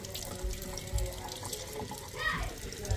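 Tap water runs steadily into a sink while a color-changing Thomas train toy is rinsed, a close continuous splashing with small thumps and shifts in the flow.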